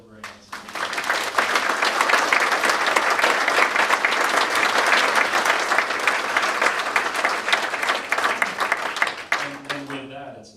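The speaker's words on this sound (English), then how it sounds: "Let me just do one big round of applause for Will Grant." A big round of audience applause for Will Grant at a book talk on his Pony Express ride across the American West, building quickly and staying full for about nine seconds, with a voice speaking briefly at the start and end.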